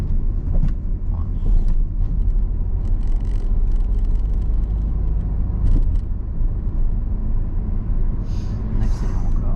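A car engine during a driving lesson, a low steady rumble rising as the driver accelerates, heard from inside the cabin with road noise and occasional clicks and knocks, no speech.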